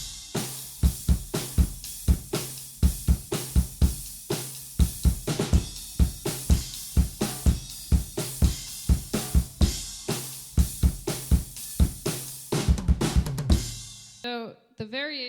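Drum kit groove played in a drum lesson, steady kick, snare and hi-hat hits repeating for about fourteen seconds with a cymbal crash accent near the end, loud and close with no talking.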